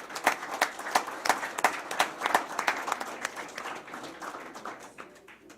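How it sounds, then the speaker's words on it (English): Steady applause from a crowd at a county board of education meeting, sharp claps rising quickly and then gradually thinning out and fading over several seconds, with no voices on top. "give them a round of applause"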